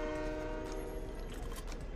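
A train in the Fortnite video game rumbles steadily with a sustained horn-like tone throughout, loud and continuous with no talk.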